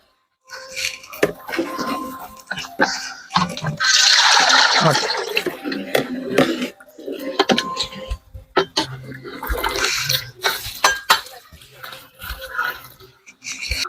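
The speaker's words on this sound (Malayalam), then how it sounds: "ഇതാ വെള്ളം ഒഴിച്ചു കൊടുക്കുക" Water gushes into a pot for mutton biryani for a couple of seconds amid kitchen clatter and knocks, with a voice speaking intermittently nearby.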